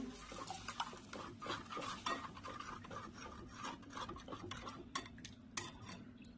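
A spoon stirs methi batter for gota bhaji in a pot, scraping and clinking against the metal in a close, continuous, uneven rhythm, with no voices.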